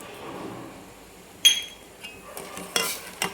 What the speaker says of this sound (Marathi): आणि पाच मिनिट आपल्याला कंटिन्यू याला ढवळत राहायचं आहे मंद गॅसवर थोडंसं आपल्याला दूध आटवून घ्यायचं आहे